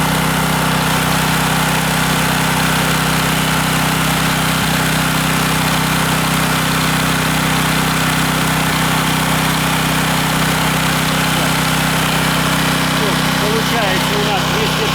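Heron 3.5 kW single-phase petrol inverter generator running under an electrical load, giving a loud, constant engine hum that holds steady for the full fifteen seconds with no break.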